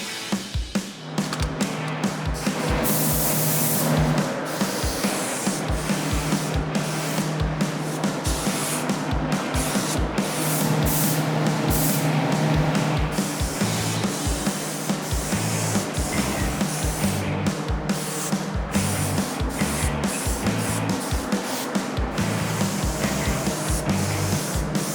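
A spray gun painting parts hisses in long continuous bursts with brief pauses between passes, loud and close, over a low mechanical hum.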